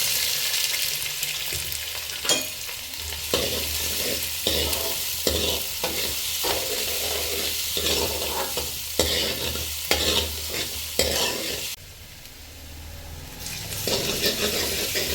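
Onion and ginger stirred in a frying pan for a quick breakfast dish, a steady sizzle of frying under repeated scraping strokes of a spoon against the pan, close and fairly loud, with no talking.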